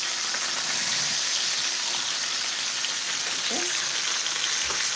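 T-bone steaks searing in a hot pan give off a loud, steady sizzle and crackle throughout, close and constant with no talking.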